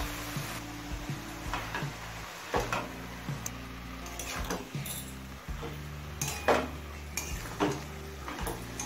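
Mustard greens being stirred in a pan for shorshe shak chorchori, with repeated scraping and clinking of a utensil against metal over a faint sizzle, in uneven bursts close by.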